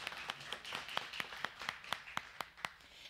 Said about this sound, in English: oh, yes, that deserves clapping.